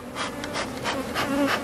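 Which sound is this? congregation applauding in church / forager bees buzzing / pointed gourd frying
forager bees buzzing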